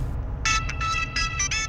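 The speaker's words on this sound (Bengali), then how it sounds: "তোমার ফোন বাজছে।" A phone ringtone rings indoors in a domestic setting, several short bright bursts repeating in a steady pattern over a low background hum.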